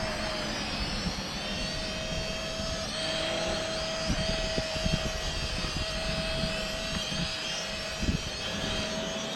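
Snaptain SP660 drone hovering steadily over a landing pad, a continuous high-pitched motor whine with a strong steady tone, close and loud throughout with no talking.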